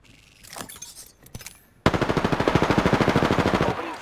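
Automatic gunfire in the video game Apex Legends: a loud, rapid burst of evenly spaced shots erupts partway through and rattles on for about two seconds after quieter scattered sounds, with no talking.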